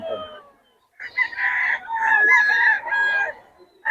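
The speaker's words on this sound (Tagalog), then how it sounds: "Ang lalaki ng manok ni Boss Batang." A rooster crows in a long, warbling call, with chicken clucking around it; the birds sound close and fairly loud.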